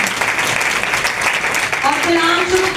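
Applause from a seated audience at a Hindi/Urdu spiritual gathering, a dense, even patter of many hands clapping throughout, with a voice speaking briefly near the end.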